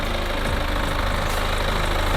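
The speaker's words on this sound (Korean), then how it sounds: "엔진 소리도 일정합니다." A BMW 420d Gran Coupe diesel idles steadily with its engine bay open, a loud, even low rumble with a continuous mechanical clatter and no pauses.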